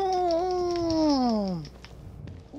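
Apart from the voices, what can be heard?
cat meowing in video game The Evil Within 2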